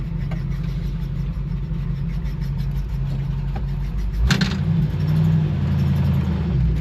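Running 1955 Chevy Tri-Five engine rumbling steadily while driving, a deep low drone with a brief clunk and shift in tone midway before settling back into a steady hum, no voices.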